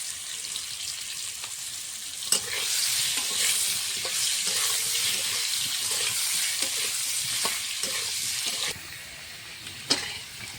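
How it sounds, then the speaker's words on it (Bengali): Potato pieces dusted with salt and a little turmeric fry in oil in a pan, giving a loud, steady sizzle broken by scraping stirs and a few sharp clinks of the spatula, with no voices. "আলুটা লাল লাল করে ভেজে নেব।"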